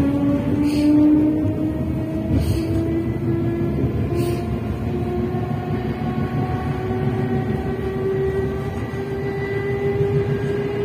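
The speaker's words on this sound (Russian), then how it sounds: "Это уже вторая станция метро." A subway train rumbles steadily along with a sustained, high-pitched motor whine that shifts slightly in pitch; no talking.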